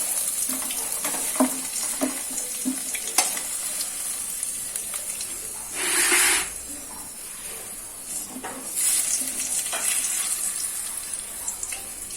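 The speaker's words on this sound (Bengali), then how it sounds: "এবারে ঢাকনা বন্ধ করে আলুটা ভেজে নেব।" Potatoes frying in oil in a covered pan, a continuous soft sizzle and hiss with two louder bursts of spitting midway, close by and without speech.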